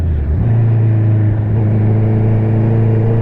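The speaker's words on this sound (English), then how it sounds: "you can tell everybody heard me revving" A Honda CBR650R motorcycle engine gives a loud, steady drone with a deep low rumble, holding a sustained rev throughout with slight rises in pitch.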